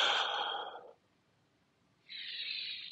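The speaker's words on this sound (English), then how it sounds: "You're going to take a breath in" Audible breaths during a short lever side plank with rotation exercise: a soft exhale-like sigh, a pause of quiet, then a second airy breath, close and faint.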